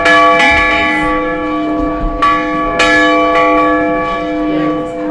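A church bell rings with a rich, sustained tone, struck again a few times so new peals layer over the lingering hum, loud and close.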